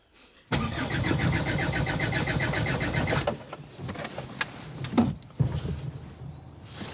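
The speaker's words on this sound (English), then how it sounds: "Why's he got the engine running?" A car engine cranks and catches abruptly, then runs with a steady rough idle, fairly close, with a few clunks and knocks over the running engine.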